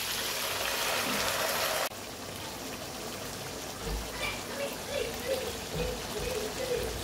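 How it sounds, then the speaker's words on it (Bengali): Chicken meat cooking under a lid in a pot for chicken khichuri gives a steady, close hiss and sizzle with soft bubbling. It starts slightly louder and settles into a continuous simmer. "এখন কিছুক্ষণের জন্য মাংসটা ঢেকে রান্না করব।"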